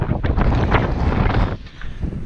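Strong wind gusting across a mountaintop ruin at Pinkuylluna in Peru's Sacred Valley, loud buffeting roar hitting the microphone in waves before briefly easing near the end.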